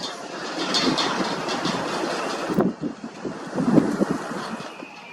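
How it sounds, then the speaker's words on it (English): Outdoor wind buffets the microphone in a steady, rumbling roar that swells in gusts and never fully drops away, with no one talking. "it's so windy"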